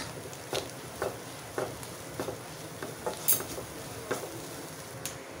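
A spoon stirs chicken with salt, chicken masala and garam masala in a pan, giving soft, regular scraping strokes about once a second over a steady low sizzle, with no talking.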